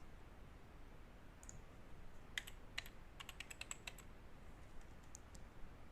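Keys tapped on a computer keyboard while a basic password is entered, a few faint scattered clicks followed by a quicker cluster of light keystrokes over quiet background hiss.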